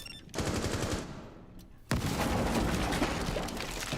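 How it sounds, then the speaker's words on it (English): Rapid gunfire crackles and booms in a dense barrage, briefly dropping away before another loud explosive burst and continued shooting. "Explosions galore"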